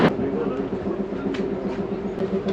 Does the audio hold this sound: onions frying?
no